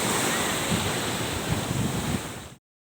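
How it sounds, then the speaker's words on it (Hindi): Ocean waves wash onto Hawksbay beach in Karachi at night, a steady loud surf roar with wind buffeting the microphone, sustained for about two and a half seconds before cutting off. "वो लहरें काफ़ी तेज़ हो गई हैं क्योंकि जैसे जूं जूं रात होती है तो वैसे वैसे जो है ना ये लहरें तेज़ होती जाती हैं"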